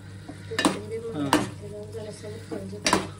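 A spoon scrapes and clinks against a pan as ground coconut is stirred into sizzling mutton keema, giving three or four distinct metallic strokes over a soft frying hiss.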